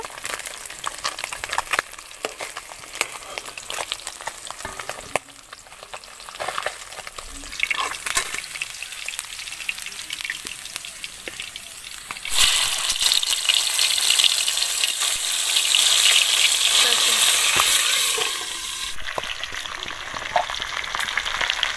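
Magur catfish frying and bubbling in oil, crackling sizzle with scattered pops that swells into a louder, denser roar midway before easing off, no voices.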